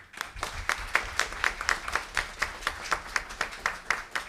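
An audience at a Brazilian legislative session on Afro-Indigenous culture claps in a steady, rhythmic beat of sharp, moderately faint hand claps spread evenly across a few seconds, with no voices over it.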